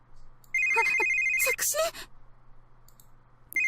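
A telephone rings in a visual novel, an electronic ringtone in two sustained bursts with a pause between them, some clicks and soft voice sounds in the middle, and a ring starting again at the end.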